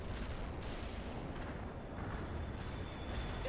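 Incoming artillery fire in the Soviet assault skirmish of the strategy game World in Conflict, a continuous dense rumble of blasts and gunfire. It is loud and stays steady for the whole stretch.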